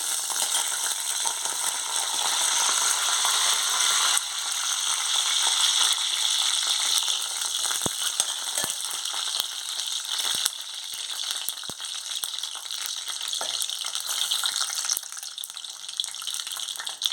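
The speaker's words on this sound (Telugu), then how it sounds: "ఫస్ట్ ఎగ్స్ ఫ్రై చేసుకోవాలి. ఆయిల్ హీట్ ఎక్కింది." Two eggs frying in hot oil in a pan, a steady bright sizzle throughout with occasional clicks and scraping taps from a utensil, close and continuous without speech.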